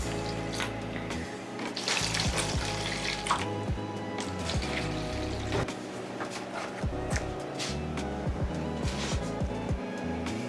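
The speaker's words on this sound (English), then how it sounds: "We're just gonna put a little bit of water in here." Water pours steadily into a seed tray for onion seeds, a continuous close splashing stream with small irregular drips and clicks throughout, and no talk.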